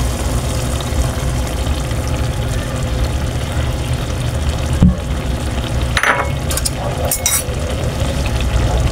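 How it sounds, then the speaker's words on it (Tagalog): Pure coconut milk poured into a hot pan of santol dish and left simmering, a steady close broadband hiss and bubbling with a few brief clinks and scrapes near the end. "ilagay na po natin itong ating pang pinaling gata, yung ating pong purong gata"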